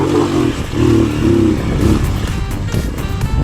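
Off-road dirt motorcycle engine revving hard on a rough, rutted track, with several rising throttle bursts close by followed by uneven, clattering engine sound.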